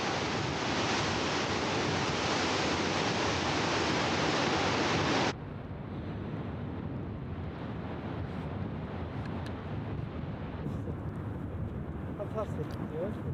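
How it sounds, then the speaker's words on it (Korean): Huge sea waves pound against a towering cliff, a dense unbroken roar of surf and wind, loud for the first five seconds and then a slightly softer, steady wash that continues throughout. "엄청난 파도가 절벽을 계속 두드리며"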